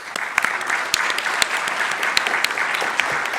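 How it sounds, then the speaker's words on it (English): An audience at a GDC 2018 keynote applauds, a steady roar of clapping with a few sharp, close individual claps standing out, lasting just over three seconds with no talk. "I think that deserves a round of applause."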